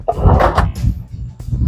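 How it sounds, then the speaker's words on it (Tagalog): Wooden drawer boxes pushed onto freshly installed side-mounted drawer guides, giving a close, loud rolling slide with a couple of thuds and knocks over a short stretch. "subukan na natin isalpak yung ating mga drawer box"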